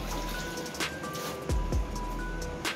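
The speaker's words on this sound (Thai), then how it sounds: "ถึงเสียงฝนข้างนอกนะคะ" Heavy rain falls outside a house, a steady dense patter with drips and a few sharper splashes, heard from indoors at moderate loudness with no talking.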